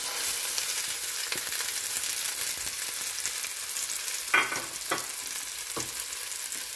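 Mashed prawns fry in a little oil with a continuous close sizzle, punctuated by a few sharp scraping strokes of a spoon against the pan near the end.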